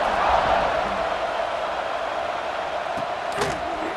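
A stadium crowd in the video game College Football 26 makes a steady, loud, diffuse roar, broken by a couple of faint thuds.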